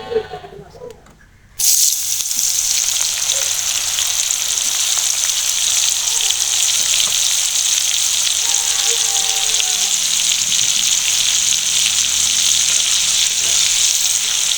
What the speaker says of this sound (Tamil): இது நாங்கள் நார்மலா பொரிக்கிறோம்